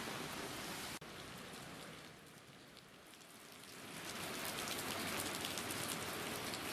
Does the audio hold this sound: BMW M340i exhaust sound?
no